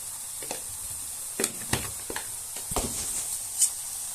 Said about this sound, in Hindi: देखिए, लहसुन को ऐसे ही भूनना है।